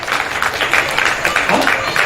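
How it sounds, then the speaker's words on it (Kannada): Loud, steady applause from an audience at an award ceremony, a dense wash of many hands clapping close and continuous, with no voices over it. "ಹಾಗಾಗಿ ಮಕ್ಕಳಿಗೆಲ್ಲ ಒಂದು ಜೋರಾದ ಚಪ್ಪಾಳೆ"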